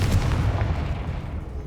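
A deep booming blast rumbles heavily from a fire spell in the video game Hogwarts Legacy, a dense low roar that fades slowly over a second or two.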